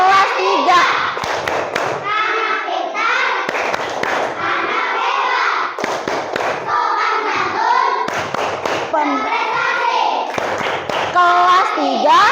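Children in a class 3 classroom clap a rhythmic chant in unison, loud and close, sharp hand claps in bursts mixed with their chanted voices.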